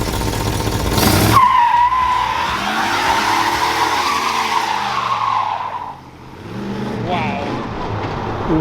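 A 1979 Dodge Li'l Red Express truck does a burnout. A loud, sustained tire squeal wails and wavers over a roaring engine for several seconds, then fades as the engine keeps running, with voices nearby.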